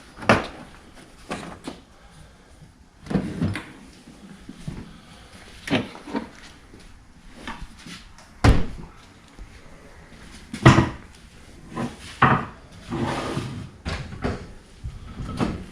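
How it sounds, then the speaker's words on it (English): The body of a Club Car President golf cart being slid off the frame, heard as a series of close bumps, scrapes and hollow plastic knocks at uneven intervals. "the body just slides off here"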